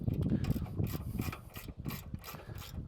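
Close, steady clicking of a 13mm ratchet spanner undoing a small bolt on a Cobra Fortis scarifier, with dense repeated pawl ticks in short bursts that pause briefly partway through.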